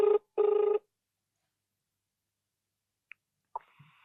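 An outgoing phone call gives two short, bright ringback bursts in quick succession, then near silence with a faint click and a brief soft sound at the end.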